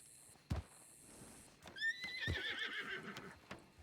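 Horses in a Wild West roleplay video game neigh in a long, bright whinny. Sharp hoof clops and thuds sound around it at moderate distance, fairly faint overall.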